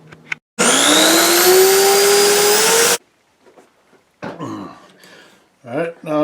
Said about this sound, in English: I'll go as far as I can with a spade bit